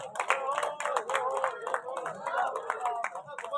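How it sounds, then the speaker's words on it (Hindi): An audience at an evening devotional bhajan gathering in a village claps steadily for several seconds, a dense, continuous patter of many hands at moderate loudness, with some crowd murmur mixed in. "एक बार ताली तो होनी चाहिए, इतनी बड़ी बात है।"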